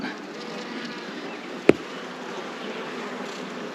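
Swarm of honey bees buzzing steadily around a comb frame of capped honey and pollen, a constant close hum with one sharp brief knock midway.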